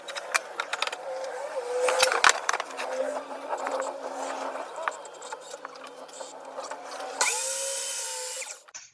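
A power saw cuts wooden boards at an angle for a coffin-shaped shelf. Workshop clatter and hum come first, then a loud, close, high whine kicks in near the end and runs steadily.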